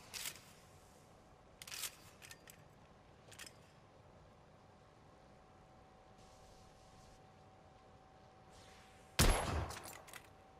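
A scoped rifle firing in the video game The Order: 1886, with scattered faint clicks and handling noises and then one loud sharp shot followed by a brief echoing tail.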